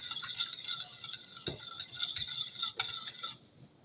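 A spoon stirs foamed yeast mixture in a bowl before olive oil is added for onion buns, giving quick clinking and scraping taps against the bowl, close and moderately loud, with no talk.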